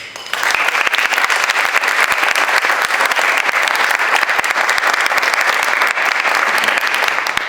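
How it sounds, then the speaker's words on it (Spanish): Audience at a public talk breaks into loud, sustained applause, a dense steady clatter of many hands clapping close by for several seconds without talk. "pido un aplauso"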